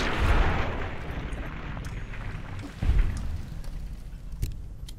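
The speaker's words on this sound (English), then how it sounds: "And I'm just shooting." Gunfire in Fallout New Vegas: a heavy booming shot at the start and another near the three-second mark, with fainter sharp reports and rumbling echoes between them.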